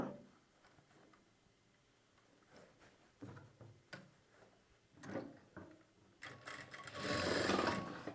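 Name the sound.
sewing machine stitching a folded pocket seam on a churidar bottom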